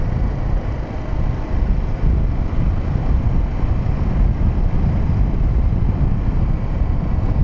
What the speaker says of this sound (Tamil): அப்படியே ஜிர்ருங்குது ஹெல்மெட்டுக்குள்ளே காற்று சவுண்டு.